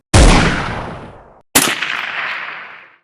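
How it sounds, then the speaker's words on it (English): Two sniper rifle shots from the video game AssaultCube, each a loud, sharp blast with a long fading tail, the second following about a second and a half after the first, with no other sound between them. "let's do the sniper sound next"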